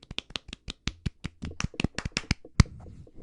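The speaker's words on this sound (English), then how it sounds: "Golf clap." A golf clap: a quick run of about fifteen light, soft, evenly spaced claps up close, tapering off with one sharper slap near the end.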